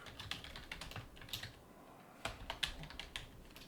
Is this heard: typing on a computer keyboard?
yes